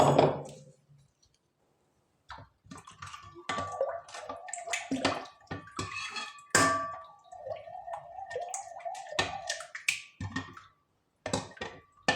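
Water is poured into a grape pulp mixture to thin it for making grape juice or wine, heard as close splashing and trickling bursts separated by short silences and small clinks.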